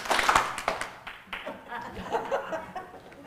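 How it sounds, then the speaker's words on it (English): A worship service audience claps together after a count of three, giving a few scattered, uneven bursts of clapping mixed with chuckles and murmured voices in a room. "you're going to have to clap again, or it's not going to go off"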